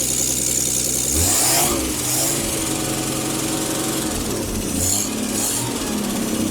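A Rambler car engine, started after sitting for about 30 years, runs at a steady idle with a continuous loud rumble and slight rises in revs, heard alone without talk.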